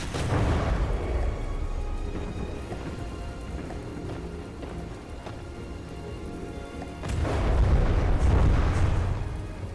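Guns fire on an enemy internal turret in the naval combat game From the Depths, a dense rumbling barrage of distant blasts that swells loudly at the start and again near the end, with no talk.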